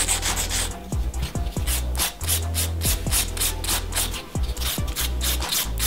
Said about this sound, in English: I'm just going to do a little bit of filing on this now.